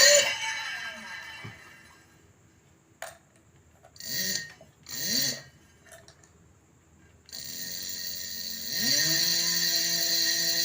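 A 48V 1kW scooter hub motor kit spins up during wear-in, giving short rising whirring whines followed by a steady, fairly quiet high-pitched electric hum that climbs again near the end. No one speaks.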